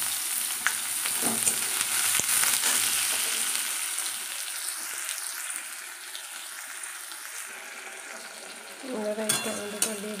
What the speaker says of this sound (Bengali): এবারে পেঁয়াজটা দেবো।